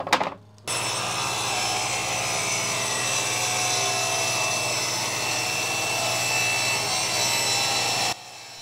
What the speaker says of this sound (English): next I need to rip these down to 2 inches wide